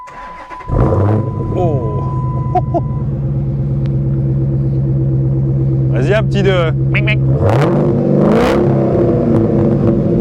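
A Dodge Challenger SRT8 V8 with a supercharger cranks and roars to life, settling into a deep, loud rumble with a couple of revs while people speak briefly over it.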